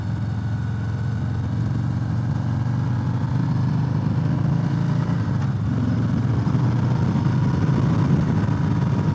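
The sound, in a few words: motorcycle engine accelerating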